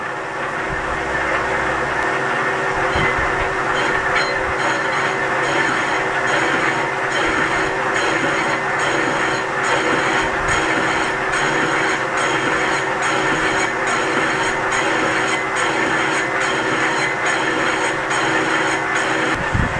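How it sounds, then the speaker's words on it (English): A lathe boring the inside of a sprocket bore for an American crane part, giving a steady, loud, continuous machining drone with faint rhythmic ticking throughout, alone without voices. "we're just starting to pick up the inside of the sprocket bore"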